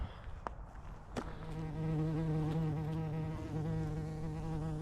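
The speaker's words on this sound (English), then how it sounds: "Loads of bees about." Steady buzzing of bees builds up after a second and hums continuously nearby, a dense droning whir with no talking.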